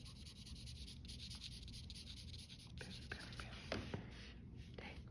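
Pencil shading a sphere on paper in broad strokes: quiet, soft scratchy rubbing close by, a few slightly louder strokes near the end, over a faint background hiss.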